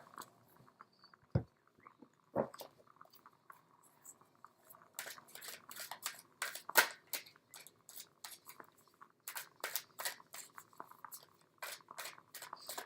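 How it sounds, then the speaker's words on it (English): Tarot cards are shuffled by hand in quick bursts of dry riffling and tapping, sparse and faint at first, then denser and closer, with no talking. "I'm just going to do a quick pre-shuffle here."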